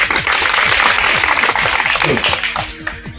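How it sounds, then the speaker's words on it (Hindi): Schoolchildren clap together during a quiz game at a free school in Mathura, a dense, steady patter of many hands filling the room, with voices and speech mixed underneath throughout. "अपने ही ताली बजा रहे सब लोग।"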